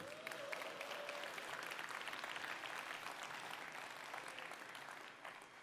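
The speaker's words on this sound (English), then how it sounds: "Don't applaud me." Faint, distant applause from a large audience at a Xiaomi smartphone launch event in Barcelona, steady clapping that slowly tapers off, with a voice briefly heard early on.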